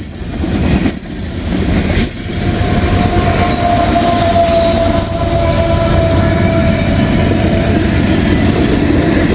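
A freight train with a DPU locomotive rolls past close by, a loud continuous roar of rail noise with a thin wheel squeal running through it and a brief dip near the start.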